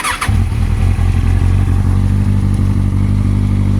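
A motorcycle engine fires up with a brief starting clatter, then settles into a loud, steady idling rumble close by, with no talking.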